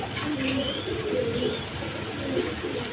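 A pigeon coos nearby in low, soft repeated phrases over a steady background hum.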